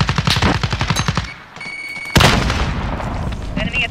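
Rapid automatic gunfire bursts in Call of Duty Modern Warfare multiplayer, a rattling string of close shots, a brief lull, then a sharp heavy blast followed by sustained noisy combat rumble.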